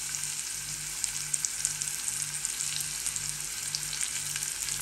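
Mango pieces fry in a pan with chili and turmeric for a pickle, giving a steady, close sizzle with faint crackles throughout and no talking.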